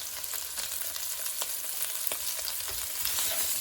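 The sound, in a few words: chili powder and spices stirred into cooking chole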